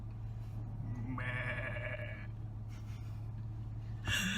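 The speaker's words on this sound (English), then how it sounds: "they're both goats. Hey, they go bah." A billy goat lets out one drawn-out bleat, fairly clear over a steady low hum, followed by a quieter rough breathy sound and a brief rustle at the end.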